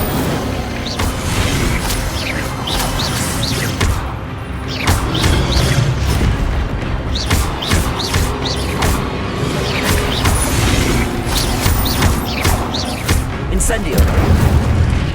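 Incendio fire spells cast repeatedly in Hogwarts Legacy, heard as a string of crackling bursts and low booms amid constant combat clatter, with a voice talking throughout.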